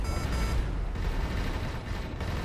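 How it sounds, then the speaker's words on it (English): Missiles fired at the player's ship in the space game Avorion, heard as a dense, continuous barrage of rumbling blasts and booms with no talk. "they're shooting a lot of missiles at me"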